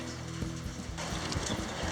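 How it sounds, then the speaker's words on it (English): Horse hooves clip-clop in a quick, uneven rhythm during a ride along the beach at Playa Flamingo, Costa Rica, over steady outdoor background noise, moderately close. "Riding horses on the beach."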